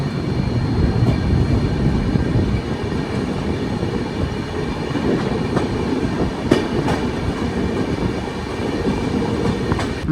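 The Mangala Lakshadweep Express travelling between Hazrat Nizamuddin and Panvel, a continuous rumble of wheels on rails heard from inside the moving train, with rhythmic clickety-clack and a few sharp metallic clicks over the steady roar.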